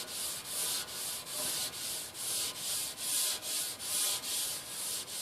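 Rhythmic back-and-forth scrubbing of a Scotch-Brite pad soaked in acetone against the bottom of a tank, about ten even rasping strokes close up with no talking.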